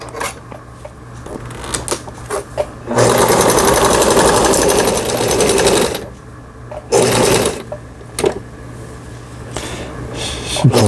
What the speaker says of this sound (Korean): 9번에 이제 누빔 바느질이라 그러죠